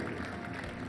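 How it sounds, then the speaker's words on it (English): Steady applause from an audience at the Juniors final of the 2015 Australian National Pokémon Championships, a dense continuous wash of clapping with faint crowd noise and no clear speech. "Ladies and gentlemen, huge round of applause for Alfredo, everyone."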